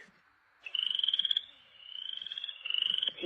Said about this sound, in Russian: лягушка